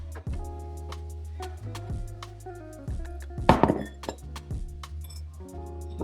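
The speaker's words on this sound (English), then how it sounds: "let me go ahead and get a glass that you all can see" A drinking glass for muddling cocktails is handled at a home bar, giving a few clinks and knocks, with one sharp glassy clink standing out partway through over a low steady hum.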